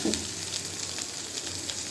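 Slices of pointed gourd (potol) coated in spices fry in a pan with a steady, dense sizzle, close and continuous.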